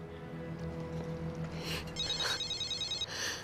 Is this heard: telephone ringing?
yes